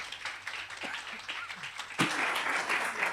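Audience applause after a talk at an entrepreneurship and economic management conference, scattered claps at first swelling into fuller clapping after two seconds, moderately close.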